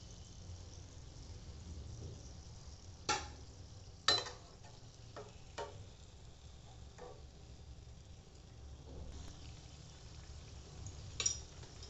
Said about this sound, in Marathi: अशा प्रकारे सगळे आता मी तळून घेते गोल्डन.